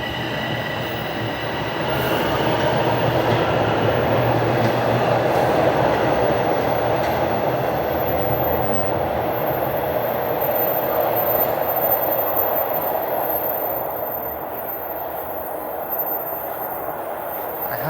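A Toronto subway train at Sheppard West station rumbles steadily nearby, its sound swelling as the cars roll through, with faint wheel squeal and clatter before it fades toward the end.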